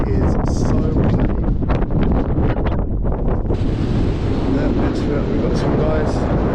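Strong wind buffets the microphone in Goyt Valley in the Peak District, a constant loud rumble and roar, gusting throughout, while a person talks briefly underneath.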